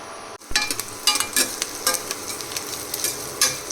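Two finely chopped onions hit hot oil in a large five-litre steel pressure cooker, bursting into a bright crackling sizzle after a brief silence, with scattered clinks and scraping stirs over the frying.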